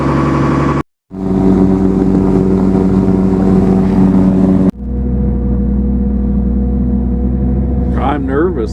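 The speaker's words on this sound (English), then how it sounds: "There's the cold start for you." A vehicle engine cold-starting in about twelve below zero, a loud steady rough drone that cuts out briefly after the first second, then restarts and runs on, settling lower near the midpoint, with a faint voice toward the end.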